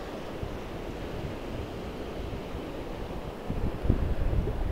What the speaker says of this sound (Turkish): Rüzgar biraz fazla.